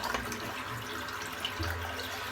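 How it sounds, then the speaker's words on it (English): Cold water runs from a tap into a shaving bowl, a steady close rushing splash with a brief heavier surge near the end, no voices over it. "Just need to get rid of that warm water out of the cold tap."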